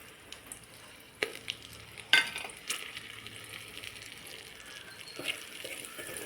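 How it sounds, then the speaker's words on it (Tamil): Chili, coriander and sambar spice powders fry in hot oil for a paneer gravy, a steady low sizzle broken by sharp stirring scrapes and clatters, close and without talk. "எண்ணெயிலேயே நல்லா வணங்கட்டும்"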